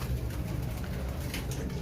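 Pigeons at the Shahdara pigeon market in Lahore coo in low murmurs, a steady dense bed of soft calls with market bustle around them and no clear speech.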